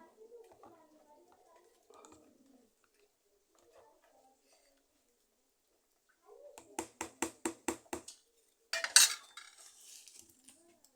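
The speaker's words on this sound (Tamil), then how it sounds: "போட்டாச்சு நல்லா கிண்டி விடலாம்" Cooked rice being stirred into potato porridge in a metal pot, a quick run of about eight sharp spoon clanks against the pot followed by a brief scraping burst, close by after a stretch of quiet speech.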